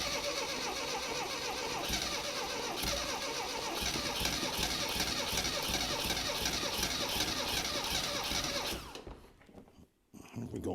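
A 1975 Mini Clubman estate, parked for seven years, cranks on its starter with rhythmic chugging, stumbles and runs rough with too much choke for about nine seconds, then drops out abruptly before a brief splutter.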